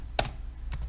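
A few crisp keystrokes tap on a computer keyboard during C++ programming, three separate close clicks spaced apart over a quiet background.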